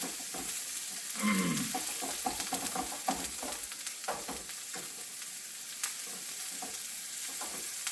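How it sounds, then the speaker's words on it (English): Onions frying hot in a pan for egg foo young crackle and hiss steadily, with sharp pops and spatula stirring scrapes close by; no one talks. "keep those onions going here, nice and hot"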